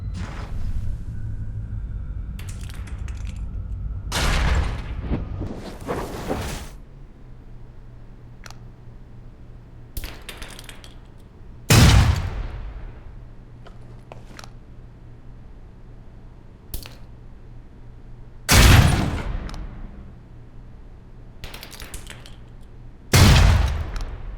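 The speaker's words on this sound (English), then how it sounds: "Grenades. Let's see that arm of yours. Go on. Start checking them. They're concussion rounds, so don't be skittish." Concussion grenades burst in the Alpha Protocol video game, several sharp, loud blasts spaced several seconds apart, each with a short rumbling tail, over quiet background noise.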